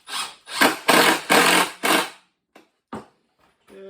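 A power screwdriver drives screws into the wood of a model railway layout bench, with five loud whirring bursts in quick succession followed by a few softer short buzzes and taps, heard close up.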